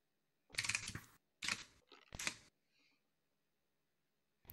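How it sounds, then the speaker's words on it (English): Computer keyboard typing comes in three short bursts of rapid clicks, close and fairly loud, separated by brief pauses in an otherwise quiet room. "It seems we can hear your keyboard."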